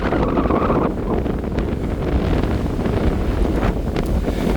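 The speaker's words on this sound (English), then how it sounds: "it's super windy and super loud" Strong wind buffets the microphone on a walk at Scarborough, a loud, continuous low rumble with gusty bursts throughout and no speech.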